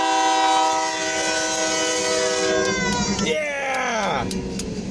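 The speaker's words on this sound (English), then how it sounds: "That's a long train too" A loud train rolls by close, its horn blaring in a long steady chord that bends downward as it passes, with rumbling wheels underneath.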